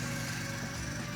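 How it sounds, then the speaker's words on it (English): Motorized dirt bikes or motorized bicycles drone as a steady, buzzing small-engine hum, heard alone for a short moment at low volume. "you hear the motorized dirt bikes or motorized bicycles."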